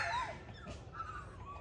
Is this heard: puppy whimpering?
yes